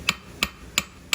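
Hammer blows on hot metal at a forge, four sharp ringing strikes evenly spaced about a third of a second apart, close and clear with no voices.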